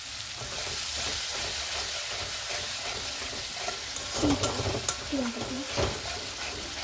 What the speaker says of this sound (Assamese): দৈখিনি এড কৰাৰ পিছত মই গ্ৰেভিখিনি আৰু 2 মিনিট টাইম ফ্ৰাই কৰি ল'ম